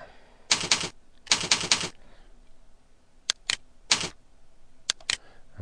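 Someone types on a computer keyboard in quick, close clatters: two longer bursts of keystrokes, then scattered single and double taps, with quiet between them.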